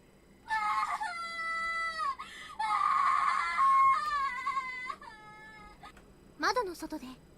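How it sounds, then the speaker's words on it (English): A screaming voice outside a window in the video game Corpse Party, sustained wavering cries over a low hum, rising to a sharp shriek near the end. "Somebody's screaming outside my window, running towards my house."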